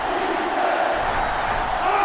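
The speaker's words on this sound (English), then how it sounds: "They're really struggling now as this crowd is going absolutely insane." Roaring stadium crowd cheering loudly in a college football video game, LSU at Arkansas, a dense sustained wall of noise.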